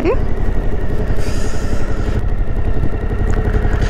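A motorcycle engine idles steadily up close at a border crossing into Albania, a dense low rumble running the whole time, with voices talking over it.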